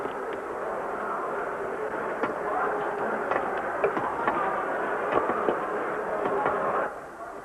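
A steady rumbling roar of the Trans-Europe Express to Paris pulling away from a station platform, broad and continuous with faint clanks and rattles, fading near the end.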